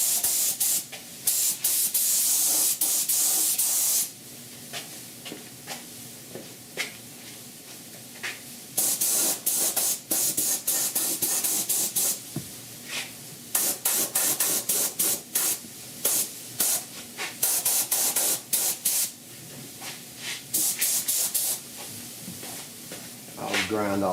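Coating is sprayed onto a severely rusted core support of a 1969 Chevrolet C10 in repeated bursts, loud hissing blasts separated by short pauses, close to the microphone.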